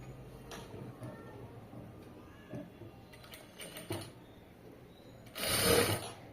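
A sewing machine stitching a blouse whirs in short intermittent bursts with mechanical clicks, ending in a louder sustained run near the close, with faint background noise around it.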